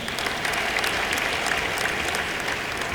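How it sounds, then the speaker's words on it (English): Steady, dense audience applause fills a university inaugural lecture hall at the Federal University of Technology Akure, even and sustained throughout with no voices over it. "I thought we'll give him a round of applause for that."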